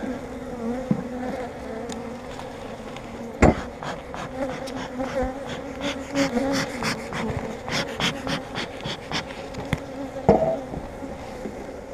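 Honey bees buzz steadily around a hive, a dense droning hum with occasional louder passes of individual bees close by.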